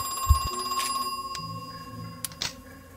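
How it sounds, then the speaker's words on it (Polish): A telephone rings inside the horror game Crow Country, a thin steady bell tone with brief clicks and game effects around it, heard alone without talk. "Kolejny telefon."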